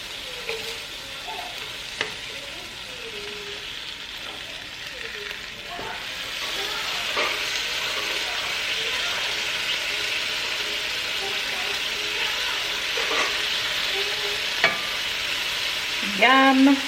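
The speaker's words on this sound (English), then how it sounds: "I'm gonna let that cook for a minute, melt the cheese, and then I'll fold these over and get them nice and crispy on the outside." Cheese-filled tortillas frying in a pan, folded over and cooked until crispy, give a steady, fairly loud sizzle throughout with occasional light clinks and scrapes, and a brief voice near the end.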